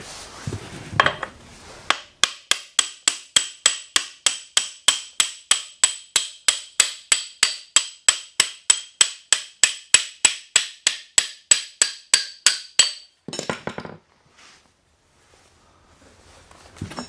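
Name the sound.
hammering out an axle on a Honda CR 125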